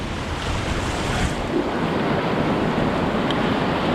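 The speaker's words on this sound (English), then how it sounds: "There's a pretty good rapid right there." River rapids on Sixmile Creek in Alaska, a steady, loud broadband roar of rushing whitewater that continues unbroken throughout, with some wind buffeting the microphone and no one speaking.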